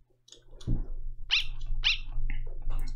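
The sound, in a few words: dog barking in the video game Undertale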